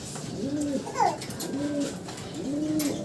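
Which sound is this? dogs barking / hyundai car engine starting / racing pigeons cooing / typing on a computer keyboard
racing pigeons cooing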